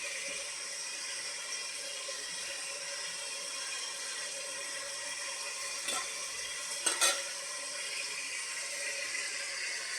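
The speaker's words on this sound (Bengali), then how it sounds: "মশলাটাও আমার ভাজা হচ্ছে" Steady, even sizzle of spices and tomatoes frying in a pan, with a couple of brief clinks of a utensil partway through.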